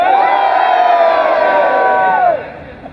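A festival crowd at a metal concert screams and cheers on request, one sustained loud massed roar of many voices that drops off abruptly near the end.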